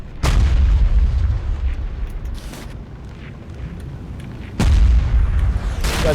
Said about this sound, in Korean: 지금 야 판토 쏜다